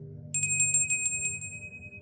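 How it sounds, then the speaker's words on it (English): A small bell rung to cleanse a space strikes about eight quick times in a rapid ringing trill, then its bright tone lingers and fades over a low background hum. "I just want to ring a bell"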